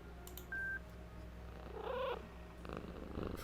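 A cat named Sumpy purring in the video game Traption Bakery, a soft, brief rumbling purr over quiet background with a short electronic tone beforehand, faint and close.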